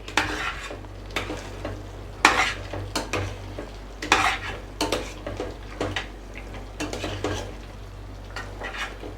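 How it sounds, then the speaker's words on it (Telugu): Spoon stirring through thick mutton curry in a pan after chili powder, garam masala, cumin and coriander powder go in, a series of loud scraping strokes with metal clinks over a faint sizzle, no talk. "కారం పొడి గరం మసాలా జీలకర్ర పొడి ధనియాల పొడి వేసుకొని కలుపుదాం"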